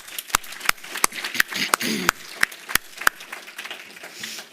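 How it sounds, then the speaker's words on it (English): A church audience gives applause as a series of distinct, fairly slow and regular claps, sparse rather than a full roar. "Let's give everybody a round of applause."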